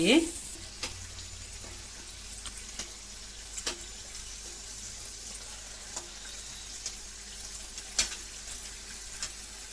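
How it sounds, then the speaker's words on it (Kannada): Potato samosas deep-fry slowly in oil over a low flame with a soft, even bubbling hiss, quiet and close, broken by a few sparse pops and clicks. "ಹಾಫ್ ಸಿಮ್ಮಲ್ಲೇ ಬಾಯ್ಲ್ ಮಾಡಿ ಫ್ರೆಂಡ್ಸ್ ಚೆನ್ನಾಗಿ ಫ್ರೈ ಆಗುತ್ತೆ ಡೀಪ್ ಫ್ರೈ"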